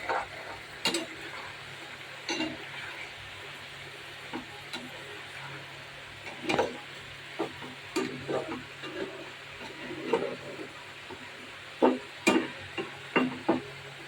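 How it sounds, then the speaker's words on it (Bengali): Spices with cumin powder are stir-fried in a pan for an egg and pointed gourd curry: scattered scraping clicks and taps from the spatula over a soft, low sizzle, close by, with no talk. "ডিম আর পটল ভুনার জন্য মশলা কষিয়ে নিচ্ছে"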